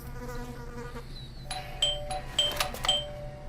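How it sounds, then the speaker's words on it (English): A doorbell chimes in the detective video game Blues and Bullets, a few bright ringing tones sounding clearly over a low ambient game hum, with no voices present. "I thought I should use the doorbell so I wouldn't startle you."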